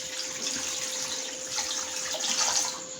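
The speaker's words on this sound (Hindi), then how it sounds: "इसमें पानी डाल रही हूँ।" Water pours steadily from a tap into a cooking pot holding a garlic-ginger paste, a continuous splashing stream with a brief swell near the end and no voices.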